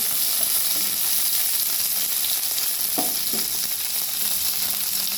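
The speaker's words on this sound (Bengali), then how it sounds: "পেঁয়াজ আর রসুনগুলো বেশ ভালো করে ভাজা হচ্ছে।" Onions and garlic fry in a pan with a loud, even, continuous sizzle throughout, broken briefly by a couple of soft stirring knocks near the end.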